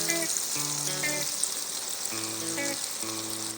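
Corn frying in melted butter in a pan for Southern fried corn, a continuous close sizzle with a bright hiss, heard under soft background music.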